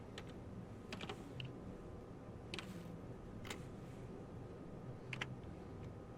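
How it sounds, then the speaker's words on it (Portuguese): Keys clicking on a computer keyboard as commands are typed, quiet irregular bursts of taps spread across a few seconds over a low steady background hum. "Eu vou pegar o bloco de notas e vou digitar alguns comandos."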